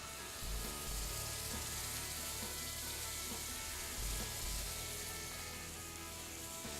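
Pine nuts sautéing in cream in a frying pan give off a steady, close sizzle, with soft scraping and low thumps as the pan contents are moved.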